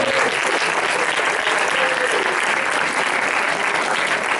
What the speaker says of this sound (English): let's give a big round of applause to all of our athletes